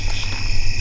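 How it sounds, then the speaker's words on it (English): Cicadas and crickets keep up a loud, steady, unbroken chirring drone at night near a campsite, with a low hum running beneath it. "Cicadas are going off pretty loud."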